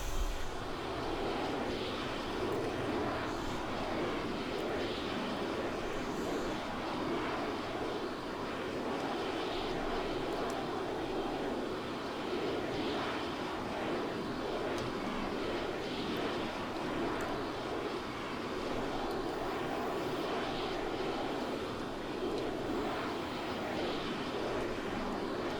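Aircraft engine in the video game ARMA 3 during takeoff, a steady broad droning roar that holds evenly throughout at moderate level, with no speech.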